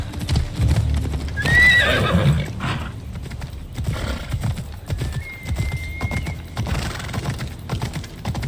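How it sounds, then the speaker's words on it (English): A horse in the Assassin's Creed Odyssey game clip-clops along in steady hoofbeats and gives two or three distinct neighs and whinnies, fairly close, with faint background game sounds and no speech. "I need to take this horse to either Adonis or to the stable boy."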